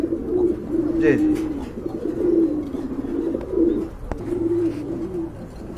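Danish pigeons coo in repeated low, throaty rolling calls close by, recurring several times, with a brief voice speaking and a sharp knock partway through.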